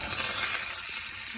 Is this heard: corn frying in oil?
yes